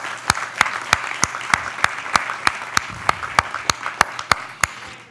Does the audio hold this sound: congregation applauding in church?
yes